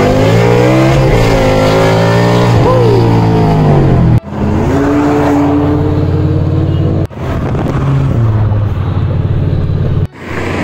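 Modified Volkswagen Polo GT exhaust blaring loud and close, with sustained high revs whose pitch rises, dips and settles, cutting off sharply three times between bursts of roaring throttle, no talking.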